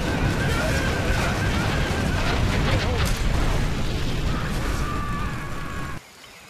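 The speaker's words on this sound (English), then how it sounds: "Warning, particle cannon detected." A particle cannon strike in the real-time strategy game Command and Conquer Generals Zero Hour, with a sustained loud roaring blast and crackling bursts for about six seconds before cutting off abruptly, with game voice chatter mixed in.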